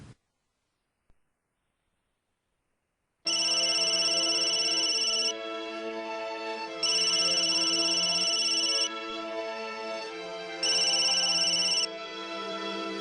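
Telephone ringing in a quiet room, a loud electronic ringtone repeating in bursts with slightly quieter stretches between them, heard alone after a few seconds of silence.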